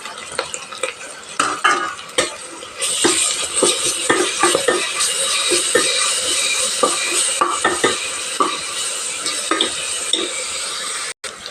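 Ginger garlic paste fries with green chillies in a pan for green pulao and chicken gravy. A loud sizzle runs under repeated metal scraping and clinks of a spoon stirring against the pan, with no talking.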